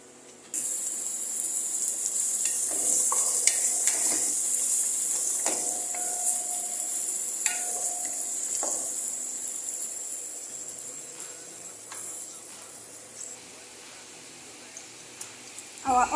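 Onions fry in oil in a pan with a steady, high, hissing sizzle that runs through most of the stretch. A voice talks over it now and then.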